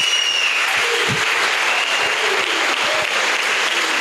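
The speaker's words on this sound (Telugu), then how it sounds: "ఒకసారి గట్టిగా చప్పట్లు కొట్టచ్చు మనం" A seated audience at a business training session applauds loudly and steadily, a dense wash of many hands clapping that holds from start to finish.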